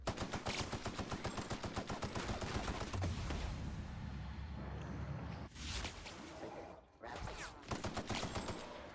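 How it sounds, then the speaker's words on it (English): Video-game gunfire aimed at the player: a fast, even rattle of automatic shots fills the opening seconds, then breaks into shorter separate bursts later. "What's shooting me?"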